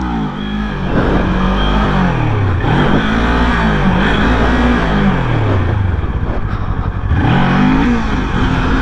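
A loud motorcycle engine revs up and down in repeated surges during wheelie practice, dropping to a lower idle-like drone with the clutch in between, close and continuous.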